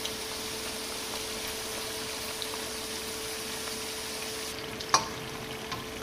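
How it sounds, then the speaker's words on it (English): Karanji fry in hot oil with a steady, faint sizzle and a constant low hum beneath it. One brief clink sounds near the end, and no one speaks. "Now I'm going to fry these until I get a nice golden brown color on these."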